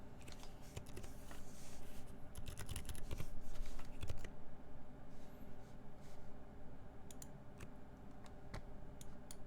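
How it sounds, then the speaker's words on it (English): Rapid, clacky typing on a mechanical keyboard fitted with GMK Olive keycaps, the keystrokes dense and continuous at first, then thinning to scattered taps over a low background hum. "Typing test."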